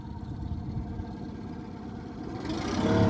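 Outboard motor on a Carolina Skiff J16 boat running in reverse, a steady low engine drone close by that grows louder and rougher over the last second.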